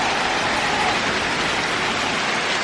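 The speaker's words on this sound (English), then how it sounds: "It's actually like raining, like heavy today." Heavy rain falling outside during a downpour that is flooding a yard, a dense, steady hiss that stays loud and unbroken throughout with no voices.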